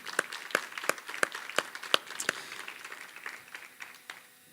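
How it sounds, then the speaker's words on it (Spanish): Welcoming applause from a church audience at a Spanish-language sermon, heard as scattered, fairly faint claps in a loose rhythm that thin out toward the end. "vamos a recibir a todos los que siguen este estudio a través de las redes sociales con un caluroso aplauso de bienvenida"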